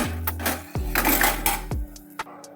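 Roasted sunberry thogayal ingredients tumble onto a metal plate in a few ringing clinks and scrapes, spaced unevenly, close and fairly quiet with no talking.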